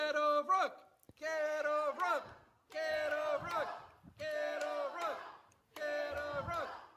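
A wrestling crowd chants loudly in five rhythmic bursts separated by short pauses, with a voice leading the rowdy call-and-response.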